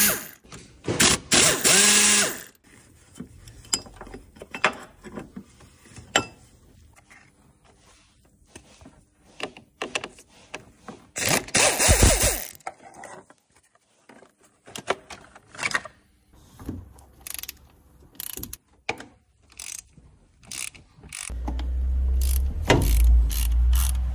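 Hand tools ratchet and clink while loosening the alternator mount bolts on a Ford 1.25–1.6 Zetec engine during a timing belt job, with intermittent bursts of close mechanical clicking and metallic knocks between pauses.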